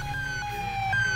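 A police car siren in a VR video game wails loudly and steadily, alternating between two tones, with no talking over it.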